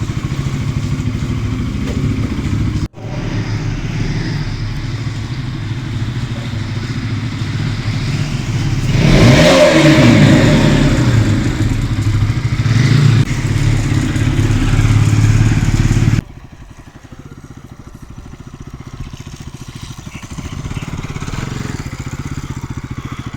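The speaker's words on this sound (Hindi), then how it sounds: "दोबारा से ज़बरदस्त ऑफ रोडिंग हो गई है, बाइक की बुरी हालत कीचड़ से।" Motorcycle riding off-road through mud, its engine droning and revving with clattering, rising louder toward the middle before cutting to a quieter idle-like rumble near the end.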